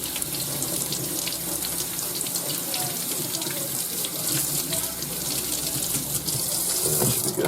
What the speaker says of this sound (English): we still need to rinse off our vegetable